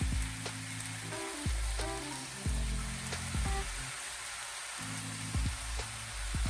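Vegetables sizzling on a grill after a few minutes of cooking, a steady crackling hiss with scattered pops, close and moderately loud, plus faint clinks and humming tones in the background.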